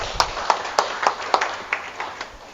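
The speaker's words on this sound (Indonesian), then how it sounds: "kita beri tepuk tangan untuk Tuhan." A church congregation claps their hands in a loose, uneven rhythm of sharp claps, moderately near, with no voices over it.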